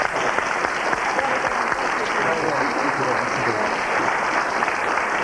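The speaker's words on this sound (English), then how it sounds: "Another round of applause for David and Bessie and Roy, please." Steady studio audience applause from a 1993 morning television programme, a dense even patter of many hands that carries on throughout at a constant level, with a faint voice just under it.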